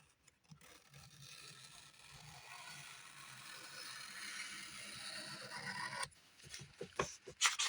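A knife rasps steadily through paper for several seconds at low volume, a continuous scratchy scraping that ends with a few short irregular cuts.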